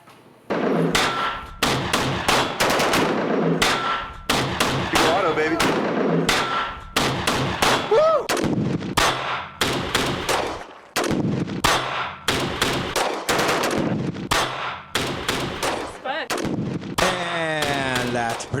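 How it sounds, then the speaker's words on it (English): Rapid gunshots from various firearms, including a P90, crack loudly one after another in close, uneven bursts across a sustained stretch, with short echoing tails between shots. "gunshots that we fired from various weapons, including a P90"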